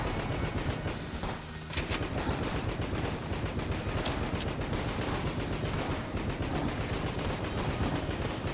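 Dense, nonstop gunfire and explosions from the video game Enter the Gungeon, a loud rapid barrage of shots and booms that barely lets up for the whole stretch.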